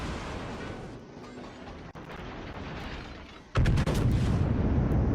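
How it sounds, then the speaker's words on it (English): Naval gunfire from a Yamato battleship in World of Warships: a low rumbling background, then a sudden loud, heavy boom that cuts in sharply and rolls on to the end. "Yamato's taking some shots at me now."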